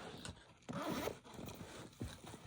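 A zipper on a bag's front pocket is pulled open in several short, close rasping strokes, clear and alone without talk.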